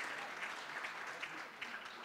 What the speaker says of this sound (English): Please give them a round of warm, warm, warm applause